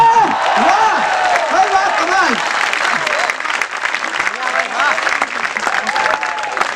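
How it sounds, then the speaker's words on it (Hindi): An audience at a Hindi poetry recital breaks into loud sustained applause and cheering, with a voice speaking over the clapping. "एक बार जोरदार तालियां"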